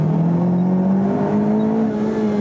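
A race car pulls out of a corner at Tsukuba circuit with a loud, close engine note that climbs steadily in pitch as it gains speed, heard on its own throughout.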